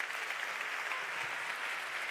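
Audience at a sports awards ceremony applauding steadily, a dense even wash of many hands clapping at moderate level with no voices on top.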